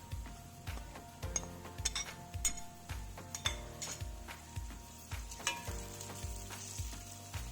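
Garlic paste and tomatoes fry in a pan for mutton saag, a continuous sizzle broken by rhythmic stirring scrapes and occasional clinks of a utensil against the pan, close and moderately quiet.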